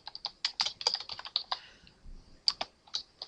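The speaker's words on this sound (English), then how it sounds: "Let's type full name," Fast, irregular clicking of a computer keyboard being typed on, crisp close keystrokes in bursts with a short pause before a final few taps, no voices.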